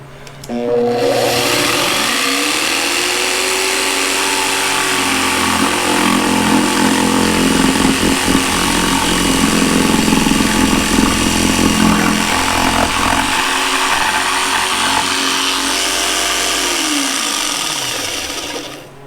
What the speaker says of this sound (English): The jigsaw is a little bit bouncy when it does a plunge cut, but it's not bad at all